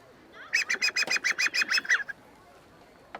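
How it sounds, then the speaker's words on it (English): An antique sandpiper hunting call blown in a quick series of about ten sharp, high piping chirps, loud and close, then stopping abruptly. "And this is a little sandpiper call."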